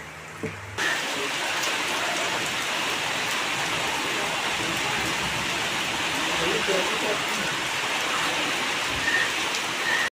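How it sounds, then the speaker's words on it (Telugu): Steady, dense rain falls throughout, a continuous broadband hiss at an even level with no gaps. "బయట వర్షం పడుతుంది"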